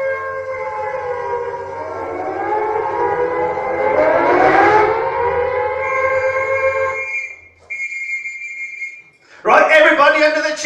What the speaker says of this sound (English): You might have heard the air raid siren going off